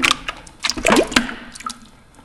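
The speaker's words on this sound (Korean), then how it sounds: "준비한 감자를 넣어줍니다." Halved baby potatoes dropped into a pot of salted water, giving a few splashy plops and drips clustered in the middle, then fading to quiet, close and fairly loud, with no voices.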